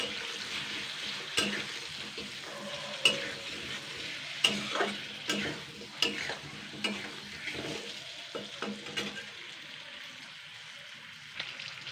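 Tomato pickle with chaat masala being stirred in a pan: soft, quiet scraping with scattered clicks of the spoon against the pan, steady and unhurried, no talking.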